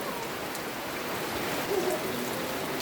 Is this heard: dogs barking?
no